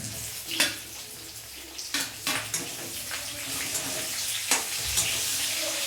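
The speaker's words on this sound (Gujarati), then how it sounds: "પછી એમાં ટામેટાં એડ કરીશું" Roughly chopped medium tomatoes, three of them, tipped into a pan of frying onions, with a steady close sizzle, a few sharp clatters as they land and a stirring scrape throughout.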